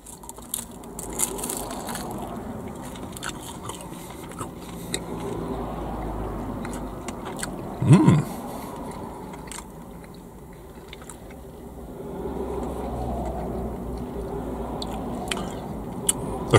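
Crunchy cheesy Burger King snack bitten and chewed close to the mic, with steady crunching and mouth sounds building and fading over several seconds, one sharper crunch in the middle, no talking.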